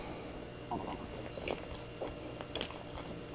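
Close crunchy bites and chewing of a crispy salt bread roll filled with milk cream, with several crackly crunches spread over a few seconds and no talking.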